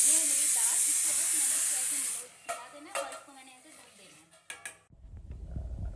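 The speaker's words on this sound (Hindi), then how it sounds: "ये दाल में देखो मैंने तड़का लगा दिया है" Hot oil tempering (tadka) poured into dal, a loud, bright sizzling hiss that dies down after a couple of seconds into softer bubbling and clinks of a pan, with a voice speaking over it.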